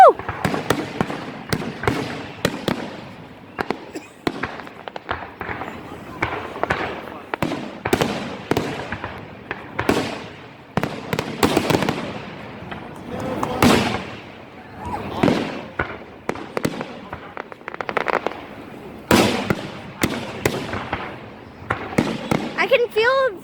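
Canada Day fireworks over a beach burst in loud, irregular bangs and crackles, some close and booming, others smaller pops, while people talk and cheer excitedly throughout.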